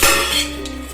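Mustard seeds and cumin crackle in hot oil as a tempering for a Gujarati puva bateta dish, a close, steady sizzle with bright popping ticks over one continuous second, no voices.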